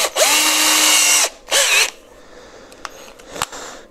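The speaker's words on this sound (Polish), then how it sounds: "Wiertełkiem sobie nawiercę otwór" A high-pitched power drill whines in a long burst while drilling a hole in plastic, then a shorter second burst, followed by a few faint clicks and taps.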